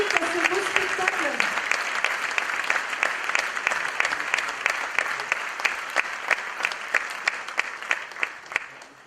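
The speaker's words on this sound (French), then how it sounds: "au moins on peut les applaudir" Audience applause at a gala performance of Alice in Wonderland, a full crowd clapping steadily and fading toward the end, with a brief voice heard near the start.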